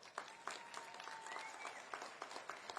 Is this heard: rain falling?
no